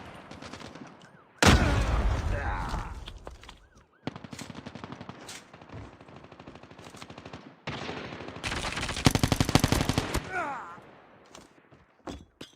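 Call of Duty video game gunfire: long bursts of rapid automatic shots in several loud stretches separated by short pauses, with faint voice chatter underneath.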